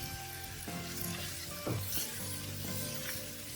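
Diced carrot and potato sizzling in a frying pan with ground beef, a close, steady crackle with a couple of scraping stirs and clinks, no talking.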